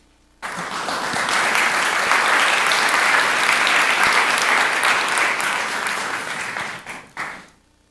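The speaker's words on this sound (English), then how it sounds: "give yourselves a round of applause" An audience at a community summit bursts into loud, sustained applause, a full roomwide wash of many hands that starts abruptly, holds steady and tapers off with a few final claps.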